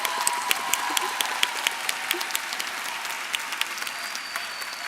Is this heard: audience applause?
yes